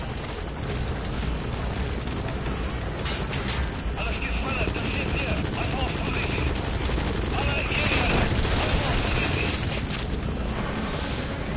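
An enemy gunship in Metal Gear Solid V: The Phantom Pain makes a steady, droning rotor roar that swells slightly midway, with voices talking over it.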